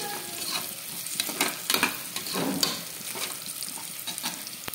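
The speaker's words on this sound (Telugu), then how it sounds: "ఆనియన్స్ బాగా ఫ్రై అయిపోయి ఇప్పుడు దీనిలో మసాలా దినుసులు అయితే వేసుకొని వీటిని కూడా ఒకసారి బాగా ఫ్రై చేసుకోవాలి." Spices fry with browned onions in a pan as palak rice is cooked, a soft, continuous sizzle broken by repeated scraping stirs of a spoon against the pan.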